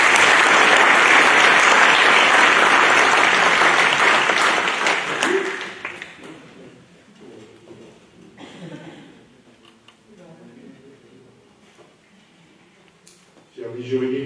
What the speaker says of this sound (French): on peut les applaudir tous en même temps